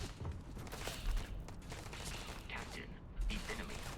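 Enemy gunfire in the video game Starfield, a dense, continuous crackle of rapid shots and mechanical clatter, fairly loud and sustained throughout with a couple of heavier thumps.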